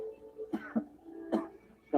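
A person gives a few short, close coughs and throat clears spaced across two seconds, alone without talk.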